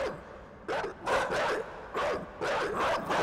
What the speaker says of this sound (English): Hey, dogs.